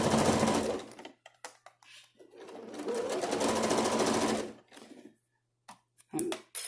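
A sewing machine stitches a casing on a t-shirt face mask in two steady runs of rapid, close, whirring needle strokes, separated by pauses with brief soft clicks and handling noises.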